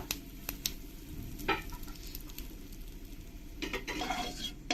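Panch phoron, dried red chili and bay leaf sizzle in hot oil with a faint, continuous crackle, punctuated by a few light utensil clinks and no talking.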